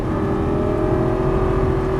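Lamborghini Gallardo LP550 on a racetrack, its engine holding a loud, steady, droning note with no clear rise or fall, close and continuous without talk.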